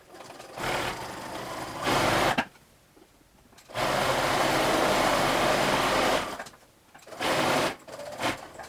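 A sewing machine stitches close to a pressed, folded edge to make the casing of a ruffled skirt, running in steady, close bursts of rapid whirring broken by short pauses.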